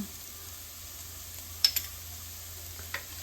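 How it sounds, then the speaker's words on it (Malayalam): Vegetables with green chilli and salt sizzle faintly in a pan for lemon rice, a quiet steady hiss broken by a few soft clicks of stirring near the middle and end. "ഇനി ഒന്നും കൂടി ഇളക്കിയിട്ട് 2 മിനിറ്റ് ഇളക്കിയാൽ മതി."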